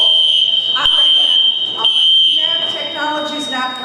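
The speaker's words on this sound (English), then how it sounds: "I hope this was just a little kid that told the fire alarm there isn't actually a real fire. It's a false alarm." A school fire alarm sounds continuously as a loud, piercing, high-pitched electronic tone, with people talking underneath it.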